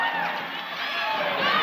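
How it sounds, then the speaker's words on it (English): Crowd noise swells steadily through a WNBA basketball game between the Las Vegas Aces and Phoenix Mercury, a dense, continuous roar of cheering spectators filling the arena without pause. "the crowd appreciates her"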